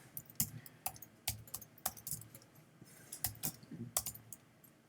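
Code is typed on a computer keyboard during an iOS programming class, with quiet, irregular clacks of keys and brief pauses between short runs of strokes.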